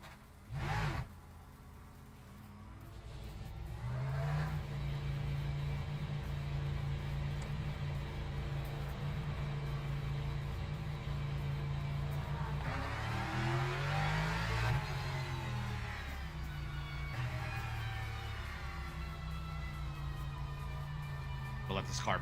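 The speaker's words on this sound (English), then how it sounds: "The Lexus sounds phenomenal as well, by the way, chat." Lexus GT3 race car in the sim racing game Le Mans Ultimate, a sustained engine drone with rising and falling pitch through gear changes, steady and loud throughout, with speech-like sounds faintly present.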